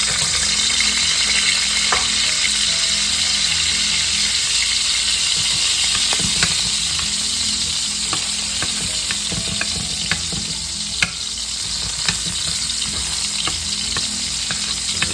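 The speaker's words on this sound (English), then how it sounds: "we're gonna start sauteing or browning our garlic first" Garlic sautés in a pan for classic chicken adobo, a loud, even sizzle close by, dotted with small clicks and scrapes from stirring, with no one speaking.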